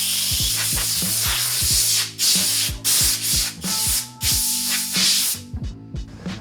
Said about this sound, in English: the things that you should look for while sanding your details with a 400 grit is like spots like this one